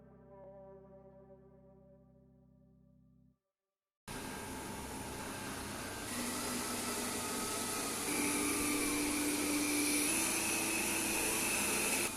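Xiaomi Lydsto R1 lidar-guided robot vacuum running on the floor, a steady close whirring hum of motor and suction that grows louder and holds with a faint high whine.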